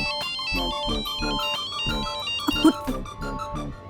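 A melodic phone ringtone plays loud and close in repeating tonal bursts, with voices talking over it.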